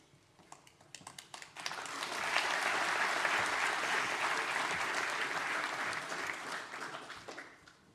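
Audience applause at a graduation ceremony for sports and exercise therapists, opening with scattered claps that swell into sustained, even clapping from a large hall crowd, then taper off.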